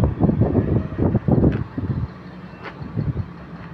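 Strong wind in a storm buffets the microphone in loud, irregular gusts that roar and subside over a few seconds.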